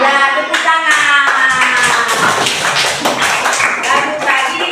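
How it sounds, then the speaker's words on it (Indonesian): Schoolchildren in a second-grade classroom clapping their hands together, a quick rhythmic burst of claps layered with singing and voices. "Ya, tepuk tangan."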